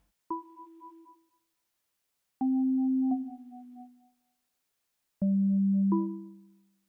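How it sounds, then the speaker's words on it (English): Three short phrases from a Log Drum synth preset with no effects, plucky, hollow tones with a wooden, knocking quality, each note sustaining briefly, separated by silence, dry and clean. "The second part of the melody I used is a GMS preset called Log Drum."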